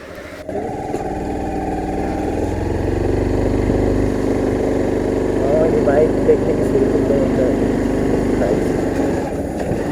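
A motorcycle engine rumbles steadily nearby on a road at Purbachal 300 Feet, Bangladesh, swelling slightly as it runs, with voices talking over the noise.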